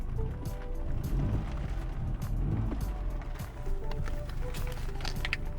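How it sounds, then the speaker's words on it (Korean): A Mini Cooper convertible with a 1499cc three-cylinder petrol engine of 136 hp idles, its exhaust giving a steady low burble with faint ticks and clicks, fairly quiet and unaccompanied by talk. "배기음도 귀염귀염합니다."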